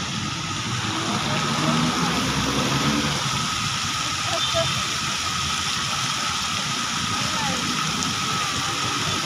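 Water sprays from a fountain or shower with a constant hissing rush, loud and close, while a low rumble and scattered background sounds sit beneath it.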